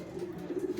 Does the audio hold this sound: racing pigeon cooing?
yes